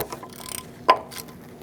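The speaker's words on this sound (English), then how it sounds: "Using an 8mm socket, I'm going to take out my ABS sensor." 8mm socket on a ratchet loosening an ABS sensor bolt on a 2004-2012 Chevrolet Colorado front hub, giving a few quick soft clicks and then one sharper metallic snap, close by.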